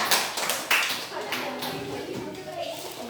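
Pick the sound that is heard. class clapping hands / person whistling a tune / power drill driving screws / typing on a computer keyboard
class clapping hands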